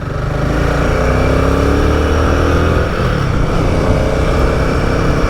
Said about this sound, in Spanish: Es fantástico volver a sentir el pavimento, volver a sentir la moto